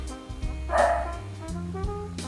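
A dog barks a few times, with a couple of yips and short whimpering sounds, at moderate distance against a quiet room.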